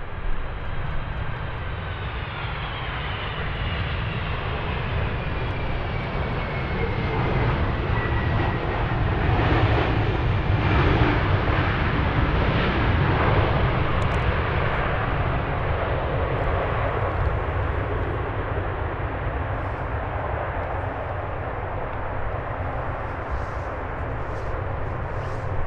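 An airliner lands on runway 25R at a freezing Frankfurt Airport, a loud sustained roar of engines that swells in the middle and slowly fades, with no talk over it.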